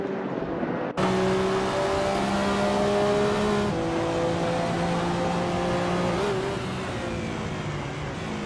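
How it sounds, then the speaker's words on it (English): A 1990 Mazda RX-7 MSA GTO race car engine in a racing game, a loud continuous whining engine note that climbs and drops through gear changes over steady road noise, with no voices. "Mist 149 is driving a 1990 Mazda RX-7 MSA GTO"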